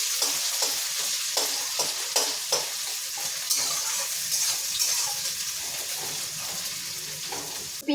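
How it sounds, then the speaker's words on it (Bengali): Raw onion and green chili hitting hot tempering oil in a pan for a goat curry, a steady close sizzle with repeated scraping stirs throughout. "এবার আমি কাঁচা পেঁয়াজ আর লঙ্কাটা আমি দিয়ে দিচ্ছি।"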